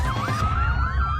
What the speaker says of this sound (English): A siren sounds.